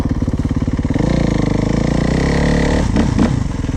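A pit bike and a 450 dirt bike running, a loud close engine drone that steadies and rises in a rev, with a couple of sharp knocks near the end.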